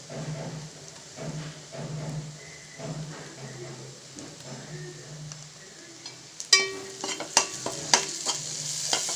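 Ginger garlic paste stirred into frying onions for Hyderabadi egg biryani, a steady low sizzle with soft scraping, then sharper spoon clinks and scrapes against the pan near the end.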